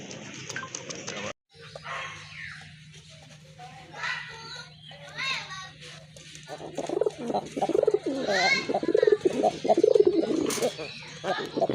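A young Bombay pigeon coos among other pigeons in a loft, its calls mixed with bird noise and voices of people talking nearby, with a steady low hum underneath and louder activity toward the end.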